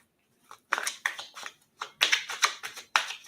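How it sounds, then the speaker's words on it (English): Tarot cards being shuffled in quick riffles and taps, several bursts of crisp papery rustling in a row, close and with no talking. "Let me just show you the cards for a moment while I shuffle"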